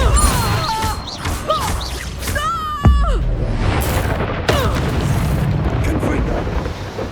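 Depulso spell impact in Hogwarts Legacy: a sharp crashing thwack lands near the middle, followed by rumbling debris and another smack, amid busy combat effects and a voice calling out.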